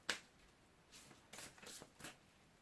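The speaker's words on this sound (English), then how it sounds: "Let's see if I can shuffle them properly." Oversized tarot cards being shuffled by hand: a sharp riffle at the start, then several soft papery flutters and taps in quick succession, close and quiet with no talking.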